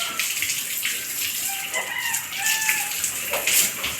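Pigs are bathed in hot weather as water sprays and splashes over them, a steady close hiss and patter, with chickens clucking and a rooster crowing nearby.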